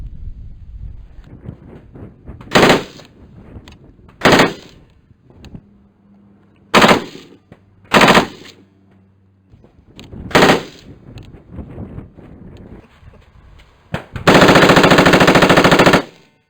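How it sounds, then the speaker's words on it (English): Automatic weapon fire in the video game Rainbow Six Rogue Spear: several short, loud bursts spaced apart, ending in a longer sustained burst, with low rumbling between shots. "It has a high rate of fire, approximately 800 rounds per minute, and it's an excellent alternative to a squad automatic weapon."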